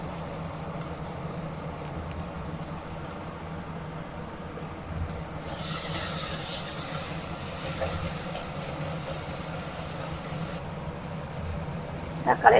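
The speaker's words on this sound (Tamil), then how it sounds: "இஞ்சி பூண்டு வதங்கிருச்சு, நம்ம தக்காளியை போட்டுக்கலாம்." Tomatoes go into a pan of frying ginger and garlic for chicken kuzhambu; a low background hiss swells suddenly into a loud sizzle midway, then eases to a steady frying sound.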